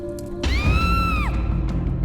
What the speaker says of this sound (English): the friends jumped up, hearing her scream